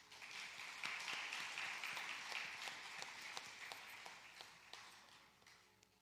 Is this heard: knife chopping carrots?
no